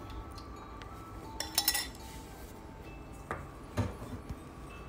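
A pan set down on a stove to heat a sauce for a lotus root dish gives a few faint metallic clinks and knocks, spread apart over a quiet kitchen background.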